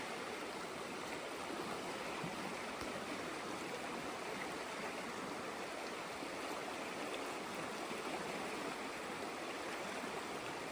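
Steady, full rush of rapidly flowing river rapids, loud and close, continuous broadband roar without pauses or voices.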